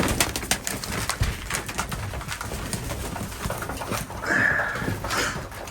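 Strasser pigeons coo in a loft, with soft throaty calls repeating over a busy background of wing flutters and shuffling, and one louder, clearer call near the end.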